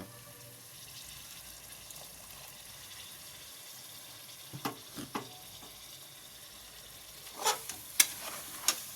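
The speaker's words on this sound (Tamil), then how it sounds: "சும்மா லைட்டாக தண்ணியை ஊற்றிக்கோங்க." Water is poured into a pan of frying masala for vegetable biryani, giving a quiet background sizzle broken by brief splashing, hissing bursts midway and near the end.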